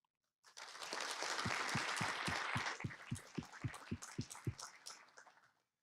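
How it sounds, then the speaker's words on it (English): Applause for candidates at the GFA Congress 2023 that swells into a brief burst of clapping, then thins into a dozen slow, rhythmic, distinct claps that fade out. "please give them a warm applause"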